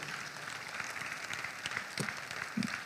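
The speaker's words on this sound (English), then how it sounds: "Please, another round of applause for Dr. Chioke." Forum audience members applaud with steady, moderately distant clapping. A few louder individual claps stand out near the end.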